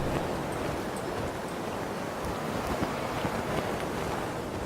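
In a flying video game, a steady rushing wind roars continuously with a faint fluttering flag-flapping texture layered in, loud and even for the whole stretch.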